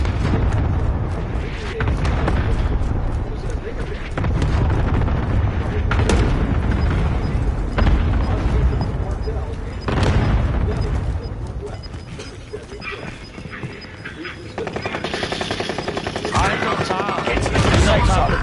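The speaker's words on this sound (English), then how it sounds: "Cluster strike is active" Repeated booming blasts from a cluster strike in the Call of Duty Warzone video game, a rapid string of loud, heavy explosions with gunfire and mechanical clatter mixed in, continuing steadily and densely with a brief lull near the end.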